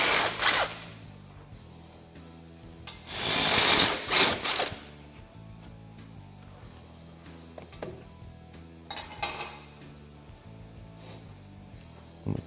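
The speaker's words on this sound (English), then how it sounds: "grab an 18 millimeter and remove our radius arm bolt" A hand or power tool works on an 18 mm radius arm bolt on a Polaris RZR XP 1000 rear knuckle, giving a steady mechanical whir with bursts of louder ratcheting and scraping, close by and with no voices.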